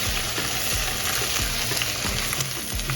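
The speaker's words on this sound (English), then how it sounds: "Just going to dump that in there. Get a little sizzle going on." Steady, dense sizzling of shallots, peppers and garlic frying in hot oil, close and continuous, with occasional scraping clatter from stirring.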